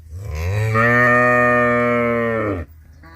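A single long, deep moo from a water buffalo, loud and close, rising and holding steady for about two seconds before cutting off.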